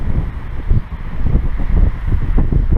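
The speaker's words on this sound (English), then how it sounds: "The wind's really blowing too." Strong wind blows hard outdoors near a smoky valley and an old chicken coop, roaring and buffeting the microphone loudly and steadily throughout.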